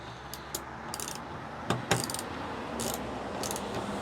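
Ratchet-driven T27 socket working a tailgate bolt on a 2018 Ford Ranger PX2, giving a few short metallic clicks and bursts of ratcheting at close range, separated by quiet gaps.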